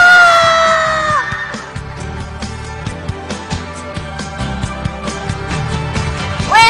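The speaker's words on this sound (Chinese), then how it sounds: "掌声欢迎林一峰。" A loud crowd at a televised Chinese cast event for the drama Gu Jian Qi Tan cheers, whoops and claps as an actor is welcomed onstage, with dense, sustained noise and sharp shouts throughout.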